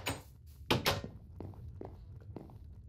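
Heavy thunking clatter of an iron door in Minecraft, with a couple of sharp bangs early on and then several softer knocks and taps, quiet and close without speech.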